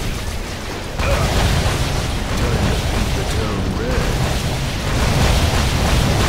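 A loud explosion in the Duke Nukem Forever shooter game as an enemy blows apart, a dense roaring burst that jumps up after a second and rumbles on without pause, with a lower stretch in the middle.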